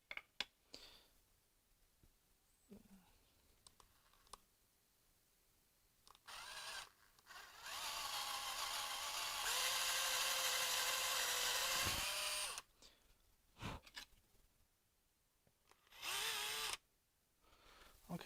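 Power drill boring holes in wood, a few short bursts and then one long sustained high whine lasting several seconds, separated by quiet pauses and clicks, close and fairly loud.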